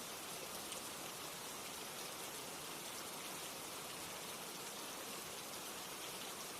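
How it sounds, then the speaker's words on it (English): Steady rain falls against windows as an unbroken, even hiss of dense pattering that holds at a constant moderate level, with no voices. "I hear the sound of rain against windows that aren't there."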